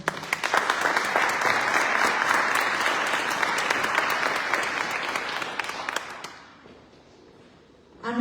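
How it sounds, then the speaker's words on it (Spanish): An audience at a cultural talk in Guanajuato gives steady, full applause for the municipal president, dense and sustained for about six seconds, then fading to near silence before a voice returns. "Un fuerte aplauso para nuestra presidenta municipal,"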